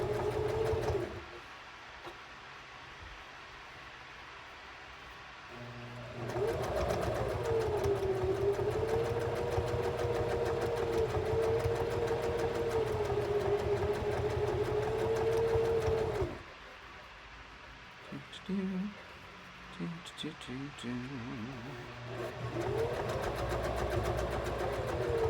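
A sewing machine stitches a quarter-inch seam on jelly roll fabric, a steady whirring hum that runs for about ten seconds, stops, then starts again.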